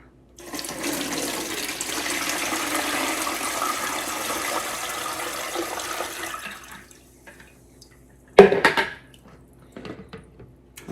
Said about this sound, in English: I'm gonna put some water in there.